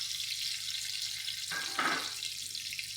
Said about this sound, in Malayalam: ഫ്രഷായിട്ടുള്ള മീനെടുത്ത് അത് അരപ്പ് പുരട്ടി വറുക്കാനിടുകയാണ്